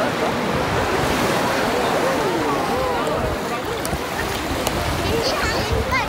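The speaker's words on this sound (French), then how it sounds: "Et donc la plage où on est." Waves wash continuously onto a campsite beach, a dense roar of surf with wind buffeting the microphone, while people talk over it.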